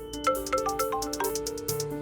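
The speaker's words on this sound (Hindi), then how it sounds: "विवान प्लीज फोन उठाओ" A melodic ringtone plays steadily, a tinkling tune of rising and falling notes repeating close by, with no voices over it.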